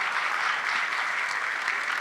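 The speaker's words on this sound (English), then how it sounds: "So everyone put a round of applause for Lýdia" An audience at a summit talk applauds the speaker in a brief, dense burst of clapping that stays even and unbroken.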